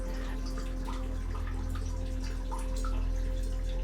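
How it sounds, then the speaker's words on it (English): Water drips steadily inside an art installation about displacement and memory, with sparse bright drops falling over a loud, constant low hum and faint tonal drone, no voices. "Combining the dripping water."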